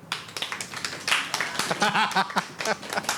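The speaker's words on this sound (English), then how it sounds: "now let's hear applause for Lesser Matt's story." Scattered clapping from a live Halloween show audience in a brewery, uneven and fairly light, with voices chattering over and between the claps.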